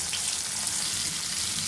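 Potatoes fry in a pan of hot oil just after pieces of ghati kochu taro have been fried and removed, giving a loud, steady sizzling hiss that continues evenly throughout, with no voices.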